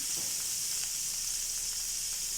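Chopped onion and two green chillies sautéing in a pan for chicken cheese cutlets, giving a steady, soft hissing sizzle throughout with no talking.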